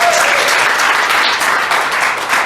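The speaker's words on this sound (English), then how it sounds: "Give him a round of applause." A comedy club audience applauds a local guest comic, with dense, steady clapping that stays loud and even throughout, and a little talk mixed in.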